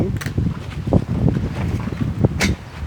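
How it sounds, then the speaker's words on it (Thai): Strong wind gusting outdoors on a blustery day, roaring and buffeting close against the microphone in uneven surges, with a few sharper bursts standing out. "ลมมากเลย วันนี้ลมมากนะคะเอฟซี"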